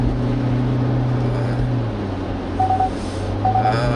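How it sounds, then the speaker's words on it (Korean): A SsangYong G4 Rexton SUV's engine hum drones steadily and resonantly through the cabin, a low booming tone that holds evenly with a faint rise toward the end. "엔진 소리 부미음처럼 좀 공진음처럼 울리는 그런 소리인데요."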